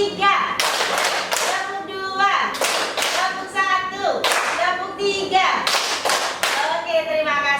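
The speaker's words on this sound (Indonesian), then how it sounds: "Tepuk 1, tepuk 2, tepuk 3." A group of people claps together in a counted classroom pattern at a school session, bursts of one, two and three claps in rhythm, close and loud over ongoing spoken counting.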